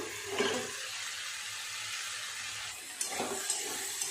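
Spring onion and potato frying in a covered pan as the lid is lifted, a soft continuous sizzle with two brief bursts of louder hissing and a clink of the lid.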